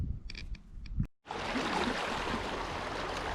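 A river crossing in Spring Canyon, Capitol Reef National Park, where a loud, steady broadband rush of flowing water comes in abruptly after a brief muffled stretch and then runs close and continuous.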